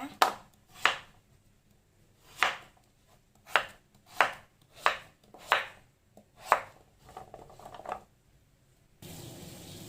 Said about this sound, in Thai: ปอกเปลือกล้างทำความสะอาด แล้วก็นำมาหั่นเป็น ชิ้นประมาณนี้ค่ะ